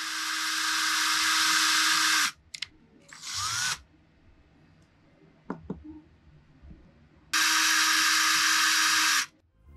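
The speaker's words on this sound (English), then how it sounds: "And then we're gonna drill a couple holes so that we can stand these up" A small power drill whines in two steady high-pitched bursts while boring holes through resin amber earrings, with light clicks and handling sounds between the bursts.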